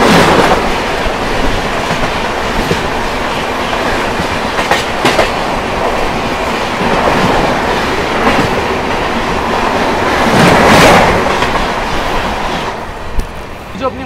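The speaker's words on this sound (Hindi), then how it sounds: "सामने से आती हुई कोटा पटना एक्सप्रेस वाया" The Kota Patna Express via Sultanpur runs past at close range with a loud, continuous rumble and a rhythmic clickety-clack of wheels over rail joints for the whole stretch.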